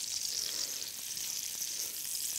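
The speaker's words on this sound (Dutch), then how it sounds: "Hij begint langzaam een beetje bruin te bakken." Steady, hissing sizzle of chorizo or meat frying and slowly browning in a hot pan, continuous and moderately quiet, with faint crackles and no talking.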